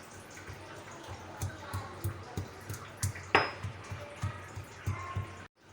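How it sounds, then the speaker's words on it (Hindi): Ginger, garlic cloves and green chillies pounded by hand in a steady rhythm of dull close thuds, about two per second, with light clinks mixed in. "तो इनको हम पहले कूट लेंगे और इस तरह से शामिल करेंगे।"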